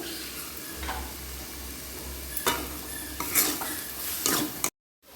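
A spoon stirs a cauliflower and carrot curry in a pan, with a soft background sizzle and several distinct scraping strokes close by before the sound cuts off abruptly.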